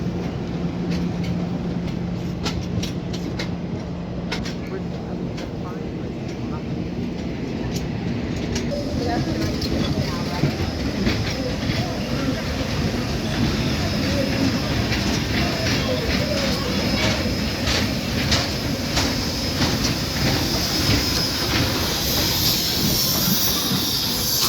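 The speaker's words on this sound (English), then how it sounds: "they said it was really cool to watch the train" A Cuyahoga Valley Scenic Railroad train moving past up close, with steady rumbling, hissing and rail clatter that builds louder toward the end while people talk over it.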